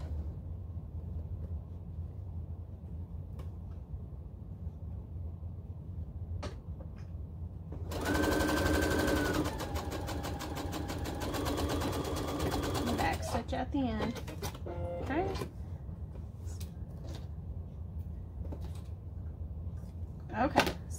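A sewing machine runs a burst of stitching along the edge of a fabric tote bag for about five seconds, then stops, leaving quieter handling noises and room hum around it.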